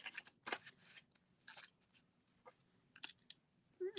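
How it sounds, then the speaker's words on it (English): Scoring tool drawn along paper at a notch for a birthday hat gift box, a few short, close scratchy strokes and rubs separated by quiet gaps. "I'm going to score right where this notch is"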